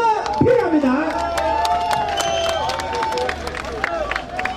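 Crowd at an outdoor Korean street-naming ceremony and celebration concert clapping and cheering, a steady dense roar of applause with whoops and raised voices running the full length.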